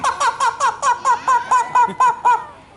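A parrot at a zoo bird show mimics a chicken with about ten evenly spaced, loud clucking calls in a quick steady rhythm.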